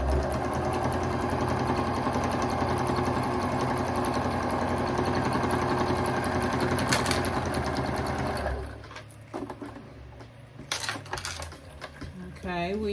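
A sewing machine stitches a drawstring backpack in a loud, continuous close run for about eight seconds, then stops, leaving light handling and fabric rustles.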